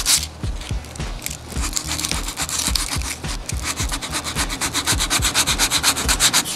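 Sandpaper works by hand over epoxy bonded to acrylic, making rhythmic back-and-forth rasping strokes that grow quicker and more even as the sanding goes on, close and alone.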